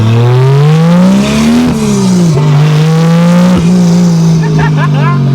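A 1987 Toyota Supra with a swapped naturally aspirated 2JZ-GE engine converted to turbo pulls hard under boost, its loud close engine note rising and dipping through gear changes, with faint tire chirps near the end.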